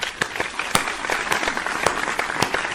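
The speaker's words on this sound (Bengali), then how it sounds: "তালিয়া।" Clapping applause in a funny Bangla TV advertisement, a busy patter of claps from a small group, with distinct sharp hand claps standing out over the steady crowd sound.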